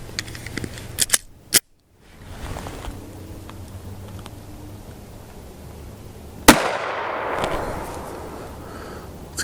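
A single loud gunshot from a .380 pistol firing a Fiocchi Blue Guardian reduced-ricochet 75-grain hollow point, rings out sharply near the middle, preceded by a few small clicks and a brief silence.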